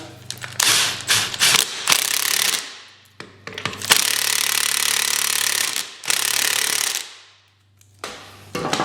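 A power tool tightens the strut bolts on a 2001 Mazda Protege front strut in loud, harsh rattling bursts, several in a row, separated by brief pauses.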